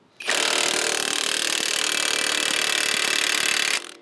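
A Harbor Freight Hercules impact wrench turning a socket runs in one loud, continuous burst of about three and a half seconds, a buzzing mechanical hammering that starts and stops abruptly, with no voices.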